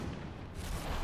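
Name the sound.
explosion in the video game Dragon Age Inquisition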